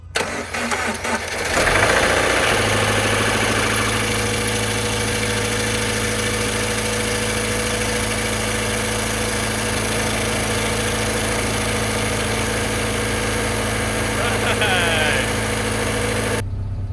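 A totaled Subaru STi engine cranks briefly, then fires up and settles into a loud, steady idle with a constant low drone that runs to the end.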